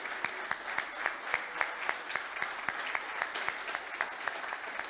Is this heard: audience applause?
yes